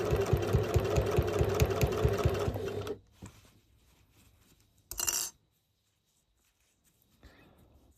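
A sewing machine stitches a 1 centimeter seam on a zippered pouch in a fast, steady, close mechanical chatter for about three seconds, then stops, followed by a brief rustle and near quiet.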